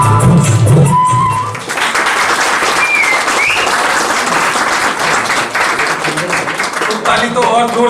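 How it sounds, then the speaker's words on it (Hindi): An audience at an Uttarakhand community gathering in Gurgaon breaks into loud, sustained clapping that continues for several seconds. A speaking voice comes just before it, and faint talk carries through the applause. "ताली तो और जोर से नहीं बजनी चाहिए थी"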